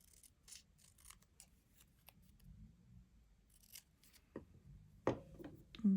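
Scissors snipping paper for a small junk journal, several quiet, separate cuts spread through the moment, with a few louder crisp snips near the end and faint handling rustle between.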